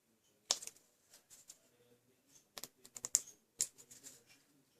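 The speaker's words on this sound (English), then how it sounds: "So I'm going to trim these bits off now." Scraps of patterned paper are trimmed for a handmade card, giving a scattering of sharp, close snips and clicks in irregular bursts over near silence.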